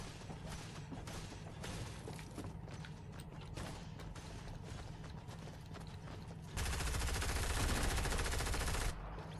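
Gunfire in the battle royale game Fortnite: a run of distant shots and mechanical clatter, then a loud dense burst of sustained fire toward the end before it cuts back.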